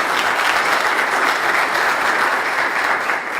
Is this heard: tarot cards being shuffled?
no